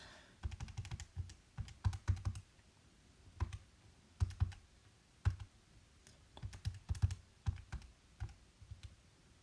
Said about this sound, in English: Type this into my calculator.